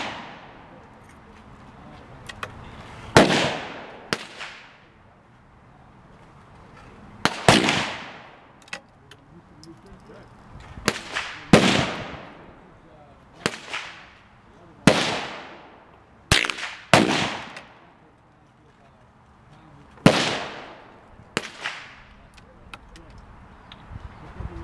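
A Winchester M1885 Low Wall rifle fired outdoors, eight or nine sharp single shots spaced several seconds apart, each with a short echoing decay, loud and close, with quieter handling sounds between shots.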